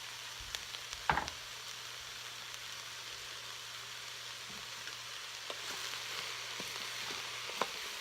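Vegetables tipped into a hot pan for a spicy vegan Italian stew give a faint, steady sizzle, with a sharp clatter near the start and a few light clicks later.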